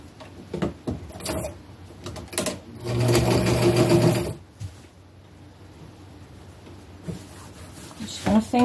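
Sewing machine running a seam on an upcycled boho scarf, one steady loud burst of stitching lasting about a second and a half, set between quieter handling and rustling sounds, with a voice talking nearby.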